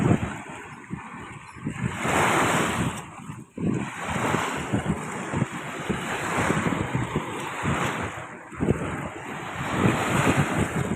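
Surf rolls in at the seashore in repeated washes, loud and close, with wind buffeting the microphone throughout and no voices.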